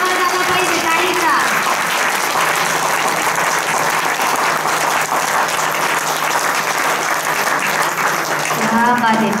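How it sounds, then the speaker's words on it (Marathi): Loud, sustained clapping from a large audience at a Marathi kirtan during an Akhand Harinam Saptah religious gathering, dense and continuous throughout, with a voice briefly audible over it. "जोरदार टाळ्या वाजवा, जोरात टाळी वाजवा. पाठीमागे टाळीचा आवाज आला पाहिजे, टाळीचा."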